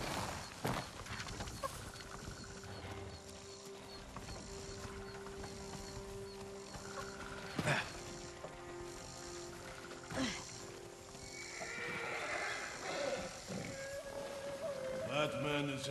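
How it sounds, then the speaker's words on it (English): Horse hooves clatter at a gallop with whinnies and animal cries in Ghost of Tsushima, layered over a busy musical game soundtrack with steady tones throughout. "Follow those horses."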